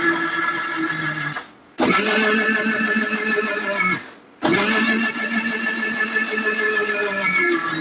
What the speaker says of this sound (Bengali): এবার ব্রেডের মিশ্রণটাকে ভালো করে স্মুথলি ব্লেন্ড করে নিতে হবে